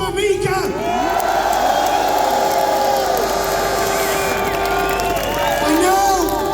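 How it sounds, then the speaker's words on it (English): A large crowd at an outdoor rally cheers loudly and steadily for several seconds, with whoops, whistles and chanting voices mixed into a dense, sustained roar. "Let's have a massive cheer for Salwan Mamika."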